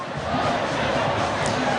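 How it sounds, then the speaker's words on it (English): A crowd of Nimba County supporters cheers at a county football match, a dense continuous roar of voices filling the air for a short stretch. "they are cheering"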